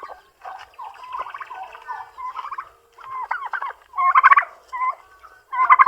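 Turkeys gobble repeatedly on a farm, close and loud, in a series of rapid rattling gargled bursts separated by short gaps.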